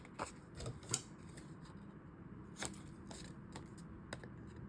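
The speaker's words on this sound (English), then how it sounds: "let's go ahead and cut our corners off really quick" Scissors snip the corners off paper for a small interactive craft booklet, a few quick sharp cuts scattered among soft paper rustling, close and quiet.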